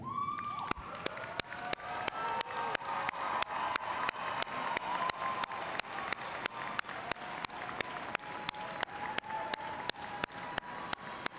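An audience claps at a college commencement ceremony, with sustained applause and scattered cheers filling a large hall, plus a faint tonal hum and regular sharp ticks running through it.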